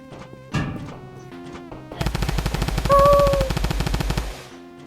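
A few scattered thuds, then a long rapid burst of machine-gun fire in the Roblox game Evil Teacher rattling for about two seconds before stopping abruptly.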